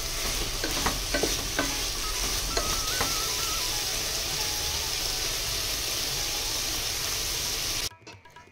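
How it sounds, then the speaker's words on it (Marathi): Chicken for a street-style chicken frankie cooks in a pan, giving a steady close sizzle with a few scraping clinks from stirring, then cuts off abruptly near the end. "चिकन छान शिजलेलं आहे"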